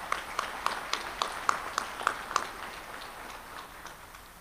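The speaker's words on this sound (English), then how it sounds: "Please give these men another round of applause." Applause at a gala with several distinct sharp claps standing out in a steady rhythm, then fading into a softer wash of crowd noise.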